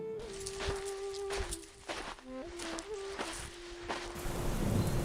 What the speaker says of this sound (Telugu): అంతలో వర్షం మొదలవుతుంది